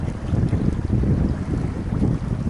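Strong wind buffets the microphone at Dangam fishing harbor in Taean, a loud, continuous low rumble and roar with gusty surges throughout.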